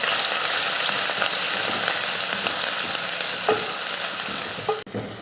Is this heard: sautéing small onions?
yes